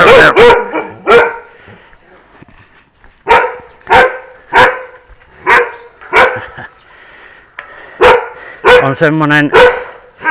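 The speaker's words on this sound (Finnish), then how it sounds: "Tässä naapurin iso koira." A neighbour's large herding-type dog, about 70 cm at the shoulder, barks loudly and close on a village road in Vietnam, a regular string of single deep barks ending in a rapid volley, with someone speaking briefly.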